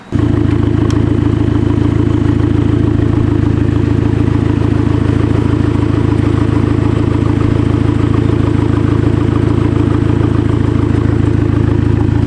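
A Dodge SRT-4 idles on its factory exhaust with the mufflers removed, a loud, steady, rough low rumble with a fast clattering pulse that runs unbroken and close-up throughout.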